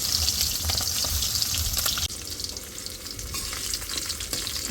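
Fish frying in a hot kadai sizzles loudly and steadily while being turned over, with a brief shift in the crackle partway through and no talking.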